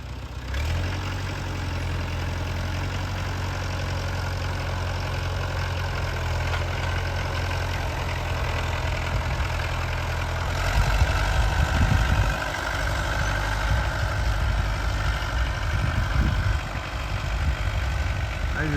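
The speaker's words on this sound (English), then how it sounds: "We're gonna get a little shot of Will taking off with that field cultivator." An International Harvester tractor idles close by with a low, steady engine rumble, then gets louder and rougher as it pulls away with a field cultivator during corn planting.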